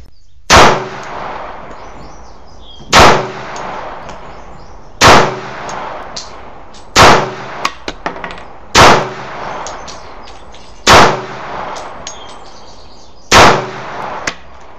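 Seven loud, sharp gunshots from an RIA 1911 pistol at a shooting range, fired one at a time about two seconds apart, each with a short ringing tail and small clinks between shots.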